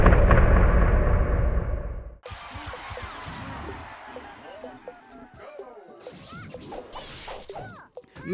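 Sword strikes and hits from a Super Smash Flash 2 match between Kirby and Marth, a heavy thudding blow followed by a rapid flurry of sharp swishes and impacts over game effects, with commentary running underneath.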